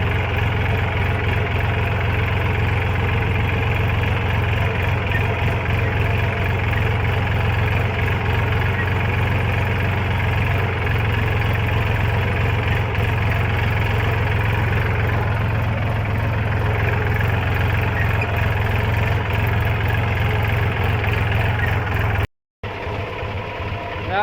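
A farm tractor's engine idling in the rain, a steady loud low rumble with mechanical rattling that runs unbroken for most of the stretch before a brief cut near the end.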